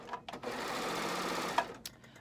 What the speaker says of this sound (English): I'm going to show you in the serger